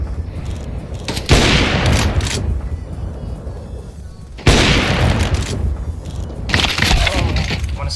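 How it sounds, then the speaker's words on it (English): Video game grenade blasts: two loud, sudden booms roughly three seconds apart, each followed by rumbling debris and crackle, with further gunfire-like bursts near the end. "Grenade out."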